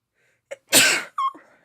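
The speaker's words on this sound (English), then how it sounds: "I'm going to sneeze in a second." A single loud, close sneeze bursts out after a quick inhale, followed by a short voiced tail and a trailing breath.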